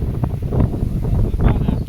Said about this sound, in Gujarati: પવન એટલો છે એટલે અવાજ તો જો કે પવનનો એટલો આવતો હશે